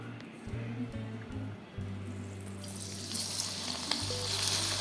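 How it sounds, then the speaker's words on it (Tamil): Okra coated in kurkure batter is crumbled into hot oil: a low tonal hum comes first, then a bright, hissing sizzle swells up and stays loud as more pieces hit the oil. "எண்ணெய் நல்லா காஞ்சி வந்துருச்சு அப்படியே மொத்தமாக போடாமல் நான் உதித்து போட்டுக்கிறேன்"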